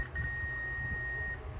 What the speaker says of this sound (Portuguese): Esse multímetro ele já está posicionado aqui na parte de bip